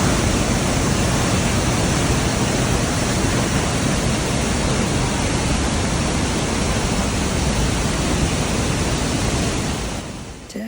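Powerful waterfall near Wengen and Mürren in Switzerland, a loud, steady roar of crashing water that fills the whole clip without pause, fading slightly in the final second.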